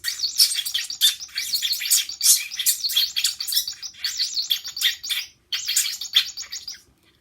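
A person whistles an imitation of a parakeet, giving a rapid, continuous stream of high chirps and tweets with a brief pause near the end, close and fairly loud.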